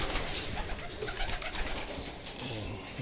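Racing pigeons at a loft coo and flutter amid a steady outdoor hiss, the bird sounds faint and mixed into the background.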